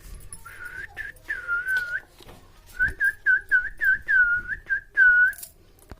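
A person whistles a wavering tune in close, clear phrases, a couple of longer notes followed by a quick run of short rhythmic tweets, with little else around.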